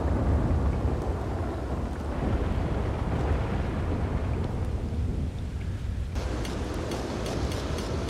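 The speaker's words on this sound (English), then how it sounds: "this is when you can get a lot of lightning strikes" Rumbling thunder from lightning strikes during a storm in Red Dead Redemption 2, a continuous loud low roar with rain hiss throughout and a fresh crack and swell near the end.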